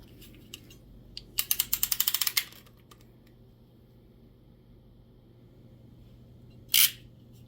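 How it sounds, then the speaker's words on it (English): A hand crimping tool presses an RJ45 connector onto Cat 5 Ethernet cable, giving a quick rattling run of sharp ratchet clicks, then quiet, then one more brief clack, all close up. "now you just pull all the way down and then slide it into your crimper"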